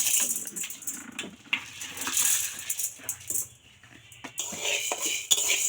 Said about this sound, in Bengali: শুকনো খোলায় কিন্তু এই সাবুদানাটা ভাজতে লাগবে দুই তিন মিনিটের মতো ভালোভাবে